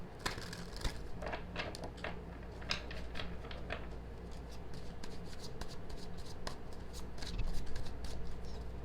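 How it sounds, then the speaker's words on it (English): Tarot cards are shuffled by hand in quiet, continuous riffling and sliding, with soft irregular snaps and flutters repeating for several seconds, fairly faint and close, with no voice. "let's cut the deck and let's see what comes up"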